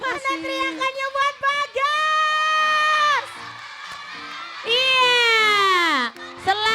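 A children's singing-contest audience cheers and shouts for a young contestant named Bagas, with two long, loud bursts of high shrieking voices between shorter calls. A voice speaks briefly in between.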